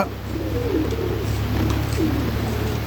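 Lakha pigeons coo in a pigeon house during breeding, several soft, low rolling coos repeating close by over a steady background hum.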